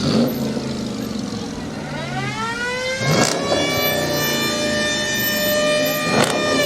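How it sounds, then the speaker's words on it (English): Powerful muscle cars revving as they roll through a Parade of Lights, engine notes climbing steadily in pitch, loud and close, with a couple of sharp bursts over continuous crowd and traffic noise. "It's like some very powerful cars and absolutely sporty muscle cars coming down here."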